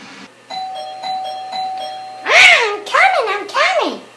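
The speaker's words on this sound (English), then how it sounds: "I guess I'm just gonna have to ring the doorbell" An electronic doorbell rings several times in a row, clear repeated chime tones near the mic, followed by animated high-pitched voices talking.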